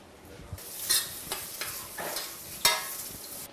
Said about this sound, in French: les cuire dans une casserole avec une noix de beurre